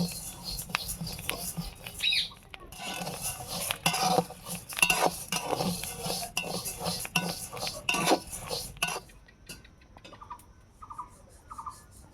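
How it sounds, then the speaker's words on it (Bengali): Rice dry-roasting in a pan, stirred continuously so grains scrape and rattle against the metal in a busy, irregular clatter that thins out near the end. "এইভাবে ভাজতে হবে, এরকম নাড়তেই হবে"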